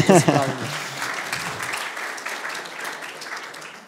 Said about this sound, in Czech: to si zaslouží potlesk